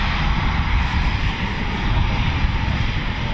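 Eurofighter Typhoon FGR4 jet waiting to take off at RAF Coningsby, a loud, steady broadband engine roar with no breaks.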